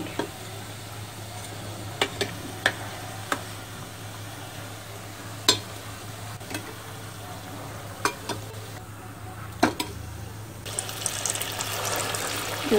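Bread potato rolls fry in a pan over a medium gas flame, giving a steady low sizzle with scattered sharp clicks and pops from the oil throughout, no talking.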